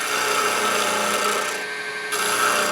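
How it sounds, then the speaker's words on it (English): A skew chisel cuts a taper into spinning wood on a lathe while turning a toothpick holder, giving a continuous loud, close, raspy scraping hiss that holds steady throughout with only a slight dip near the end. "And we can just come across here like that with our skew, tapering that down."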